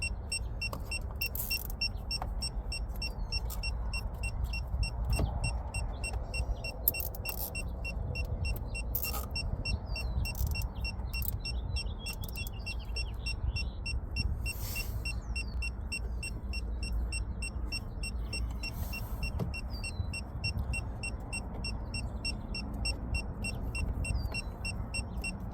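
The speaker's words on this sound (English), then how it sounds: "that's the firmware beeping noise I was talking about" A Geotab device installed in a 2025 Chevy Equinox EV gives a repeating high firmware beep, steady and fairly close, over a constant low hum of background noise.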